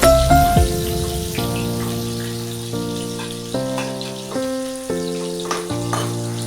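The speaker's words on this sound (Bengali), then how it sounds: "আলুটাকে একটু লাল করে ভেজে তুলে নিয়ে" Steady, crackling sizzle of potato pieces frying in hot oil until reddish, for rohu fish kalia, with soft background music playing throughout.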